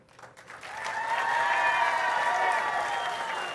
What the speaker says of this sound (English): how about a nice round of applause for our two finalists?